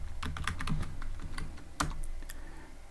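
Computer keyboard typing while writing Python code, with an irregular patter of light key clicks and a couple of sharper presses, close and alone without speech.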